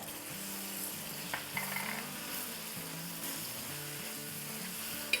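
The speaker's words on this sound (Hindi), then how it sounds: "साथ ही इसमें डाल देंगे आधा कप डाइस की हुई अनियन" Diced onion and Kashmiri red chilli frying in a pan give a steady, moderately loud sizzle, with a low hum underneath and no voices.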